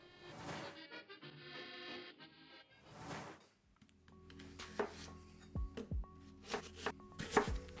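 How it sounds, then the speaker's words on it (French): An onion is chopped coarsely with a kitchen knife on a board, producing a series of close, irregular knocks and thuds that build in the second half after some quieter rustling. "l'oignon, on s'embête pas, on taille assez grossièrement"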